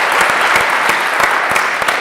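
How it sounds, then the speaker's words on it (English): Loud, close applause from a gala audience honouring the mentors, a steady wash of many hands clapping for about two seconds with a few sharper claps standing out. "I want to please ask you for an applause for our mentors"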